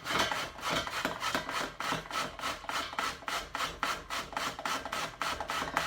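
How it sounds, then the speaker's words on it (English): Washed courgettes with the skin on rubbed against a grater for a chocolate cake, a quick steady rhythm of rasping strokes, around three per second, close and fairly quiet with nobody talking. "Now I grate mine with the skin on"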